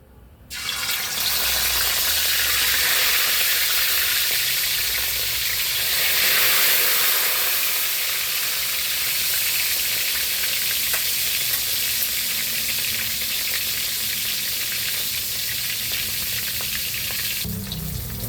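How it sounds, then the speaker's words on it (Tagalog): Steady, loud sizzling of milkfish frying in hot oil in a pan, a continuous crackling hiss that runs throughout with no talking. "Okay, prito na tayo ng bangus"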